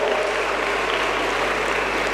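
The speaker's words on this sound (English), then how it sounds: "A big round of applause for all of them." Audience at a pharmacy college annual day celebration applauding student achievers, a steady dense wash of clapping that holds evenly throughout without breaks.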